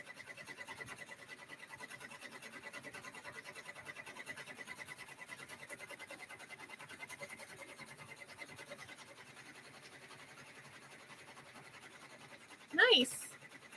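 A sewing machine runs in a steady, faint, even whir for most of the stretch, with a short louder scrape near the end.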